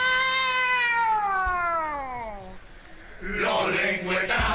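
A carnival chirigota group of performers imitates a cat with a long, drawn-out vocal meow that slides downward in pitch, then breaks into a short burst of raucous voices and laughter, loud and close.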